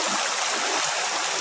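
Spring water wells up from underground at a river in Carigara, Leyte, rushing in a steady, close, broadband splash with no pauses and no voices.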